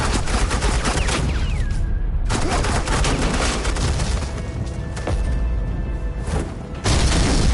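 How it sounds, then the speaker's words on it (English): Dense suppressing gunfire crackles in the video game Batman: The Enemy Within, continuous loud volleys of shots with brief pauses and a renewed burst at the end. "Suppressing fire."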